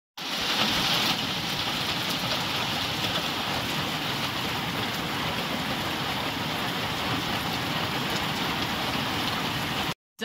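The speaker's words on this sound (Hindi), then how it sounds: "हम एक पेड़ के नीचे छुप के बैठे हैं क्योंकि बारिश तेज आ रही है।" Heavy rain in Sikkim pours down steadily and loudly, heard from shelter under a tree, a dense, unbroken hiss of drops drumming on surfaces throughout.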